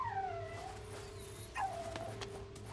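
A robot dog in a video game whimpers in two high, falling whines a second or so apart, near and moderately loud over a faint steady hum.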